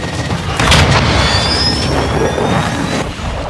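Cruise missile strike in Call of Duty Modern Warfare 2022 multiplayer, a loud, sustained rumbling boom with a roaring, jet-like whoosh overhead and no talk.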